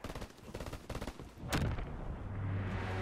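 Burst rifle fire from the ITRA in a video game, a rapid cluster of loud shots early on followed by one sharp blast and a sustained rumbling tail.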